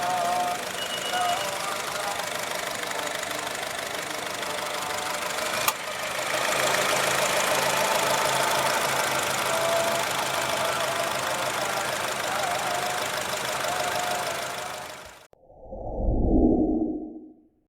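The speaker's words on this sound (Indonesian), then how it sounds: "Untuk mesin normal, kondisi sehat, siap pakai." A Honda HR-V engine in normal, healthy condition idles steadily with a mechanical hum and faint ticking, close by, before cutting off into a short muffled thud at the end.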